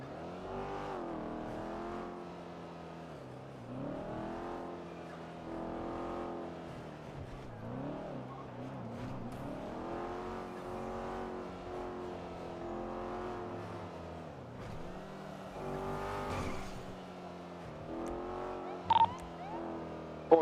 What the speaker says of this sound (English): it actually sounds like a Charger